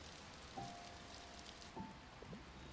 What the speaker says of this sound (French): Et il se met à pleuvoir.